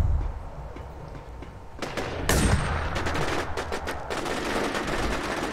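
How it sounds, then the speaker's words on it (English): Bursts of gunfire in the online shooter War Inc. Battlezone, with sparse shots early and then dense, rapid automatic fire running steadily to the end, mid-distance and fairly loud. "I don't know who they're shooting at."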